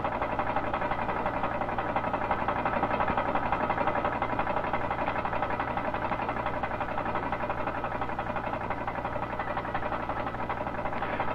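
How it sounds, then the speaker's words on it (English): A knotter strainer in a hand papermaking mill clatters steadily and loudly, a dense, unbroken mechanical rattle with no pauses from start to finish. "The noise you can hear is the clattering of the knotter,"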